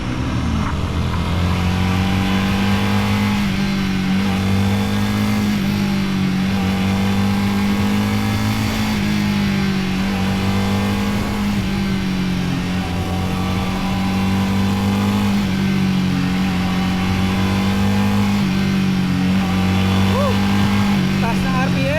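A Royal Enfield Guerrilla 450 motorcycle engine runs loud and close on a test ride, holding a steady high-rpm drone with slight rises and dips as wind rushes past.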